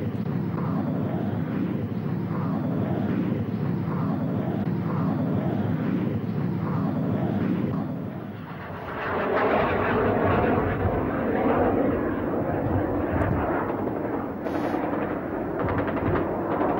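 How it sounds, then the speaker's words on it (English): Argentine A-4B jet taxiing and then taking off during the 1982 Falklands War, a steady loud engine roar that swells and brightens partway through as the jet powers away. "Frente a nuestra cámara, A4B, carreteando y saliendo, suponemos que hacia la zona de Malvinas."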